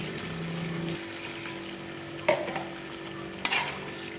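Chicken frying in a wok as it is stirred, a soft steady sizzle with two sharp utensil scrapes against the pan, quiet and close with no talking.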